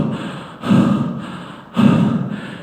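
A voice imitates panting for breath: two loud, close, drawn-out gasping breaths, each surging up and then trailing off, with no words spoken.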